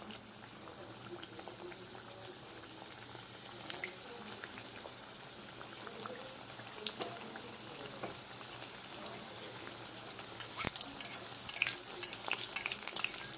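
Pocket chowmein frying in hot oil in a pan, a steady bubbling sizzle with crackling pops that grows a bit busier and louder toward the end, heard alone without talk.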